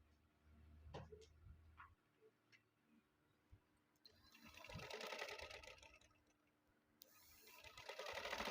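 A domestic sewing machine stitches the second side seam of a shirt, with a soft rapid whirring burst in the middle and another near the end, broken by a few scattered clicks and handling taps.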